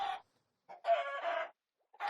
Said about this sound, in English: there's one last mob that I can put in here. The chicken